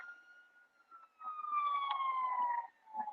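A GTA 5 video game police siren wails with a steady falling pitch, fairly loud and electronic-sounding, rising in intensity midway before fading slightly.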